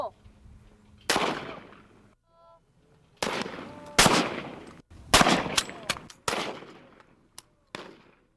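Gunshots ring out at a shooting range as a series of loud, sharp cracks, some spaced apart and some in quick succession, each trailing off in a short echo.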